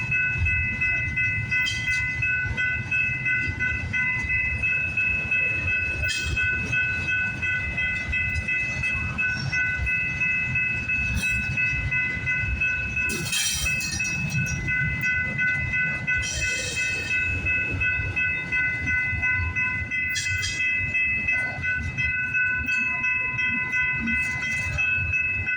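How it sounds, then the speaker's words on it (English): A Loram rail grinder train rolls steadily along the tracks, a continuous rumble of wheels on rail with sustained tonal squeal and occasional bright metallic bursts, heard from trackside at moderate distance. "Why the hell is this train slowing down?"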